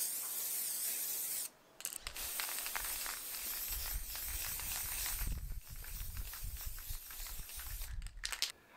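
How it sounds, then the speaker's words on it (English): An aerosol can hisses in long continuous bursts with short pauses, the rattling ball clicking between sprays, fairly close. "getting to use spray paint was an absolute joy"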